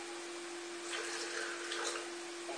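Steady, faint stream of water poured into a Thermomix while making ketchup, a continuous splashing trickle that rises briefly in the middle, with no talk over it.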